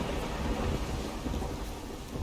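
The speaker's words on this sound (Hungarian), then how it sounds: "Micsoda viharok!" Thunderstorm in The Witcher 3: Wild Hunt, a dense steady roar of heavy rain with deep rumbling thunder underneath, loud and continuous with no voices.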